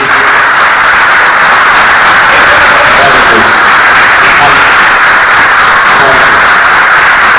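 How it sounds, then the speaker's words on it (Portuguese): A church congregation applauding, a loud, dense wash of clapping that fills the space evenly and continuously, with a hint of voices underneath. "Se você puder aplaudir o Senhor Jesus mais uma vez."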